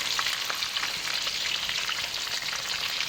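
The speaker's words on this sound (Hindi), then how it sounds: "बिल्कुल हम इसको लो फ्लेम पे बना रहे हैं, फ्राई कर रहे हैं।" Mutton chapli kababs fry over a low flame in a pan, making a steady, close crackling sizzle with fine popping spatter throughout and no voices.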